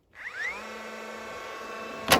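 A power screwdriver drives a screw while a wooden deer stand is being built, a single close whirring burst that rises in pitch, holds steady, then ends with a sharp clack.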